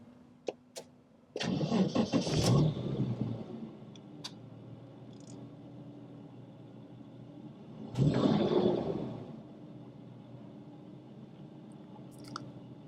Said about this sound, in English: we've got that 4 litre under the bonnet